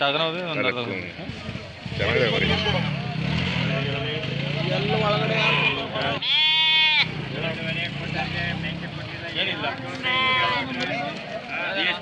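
A loud, wavering sheep bleat stands out amid a busy crowd at a livestock market in Tumakuru, India, with constant overlapping talk, with another bleat following later.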